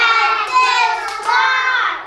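A few sharp hand claps from children in a classroom, counting out the syllables of a word, mixed with young voices chanting close by throughout.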